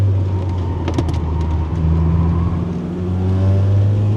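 A Honda Civic EG6 engine revving high and sustained, loud and droning from inside the car, with no talking over it.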